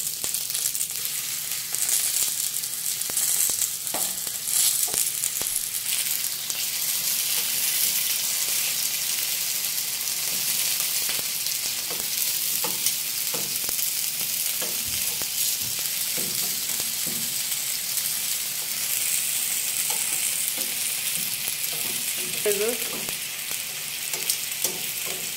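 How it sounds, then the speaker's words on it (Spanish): Beef frying in a little oil in a home pan, a loud, continuous close sizzle with crackling and occasional stirring scrapes, steady for the whole stretch with no talking. "en mi sartén con un poco de aceite vamos a poner la carne"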